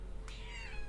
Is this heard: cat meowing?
yes